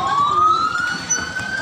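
Fire engine siren at a house fire in Nunukan, a sustained rising wail carrying loudly over a rough background rumble of engines and commotion.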